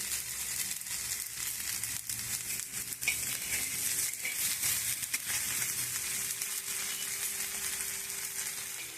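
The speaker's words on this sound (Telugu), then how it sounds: "కొంచెం సిమ్లో పెట్టుకొని కాల్చుకోవాలి మనకి ఎంత కావాలంటే అంత ఆయిల్ వేసుకోవచ్చు" A ragi (finger millet) dish fries in oil on a low flame, giving a steady, close sizzle with scattered small crackles and stirring noises and no talk.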